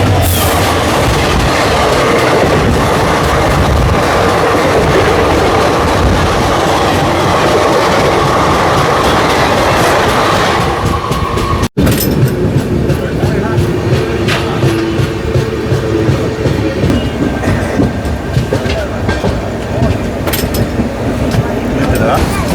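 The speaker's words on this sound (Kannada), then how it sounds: "ಯಶವಂತಪುರದಿಂದ ಚಿಕ್ಕಮಗಳೂರು ಹೋಗುವಂಥ ಚಿಕ್ಕಮಗಳೂರು ಎಕ್ಸ್ಪ್ರೆಸ್ ಜೊತೆ ಕ್ರಾಸಿಂಗ್ ಐತೆ ನಮ್ಮ ಟ್ರೈನ್." The Chikmagalur Express passes during a crossing, heard from a Jan Shatabdi Express on the Hubli to Bengaluru route: a loud, continuous rumble of wheels and carriages with clickety-clack, then a sharp break as the passing train clears and a quieter running rumble follows.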